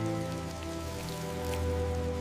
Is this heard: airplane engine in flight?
no